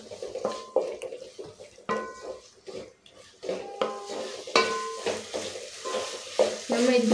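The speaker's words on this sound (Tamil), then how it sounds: "தக்காளியை நல்லா கரைஞ்சி வர அளவுக்கு வதக்கிக்கோங்க." Tomatoes sauté in a pan for mushroom dum biryani made with seeraga samba rice, with close, loud scraping and stirring of a spoon against the metal pan over a soft sizzle.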